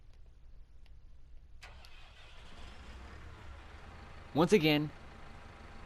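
In Farming Simulator 19, a small tractor's diesel engine cranks and catches in a short, loud burst near the end, after a quiet stretch with a few spoken words.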